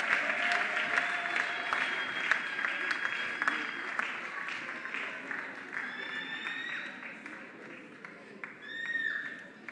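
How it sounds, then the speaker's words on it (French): Audience applause for the finalists of a grand final, a sustained wash of clapping with scattered cheers and whistles, and voices mixed in throughout. "Est-ce qu'on peut applaudir pour eux, s'il vous plaît?"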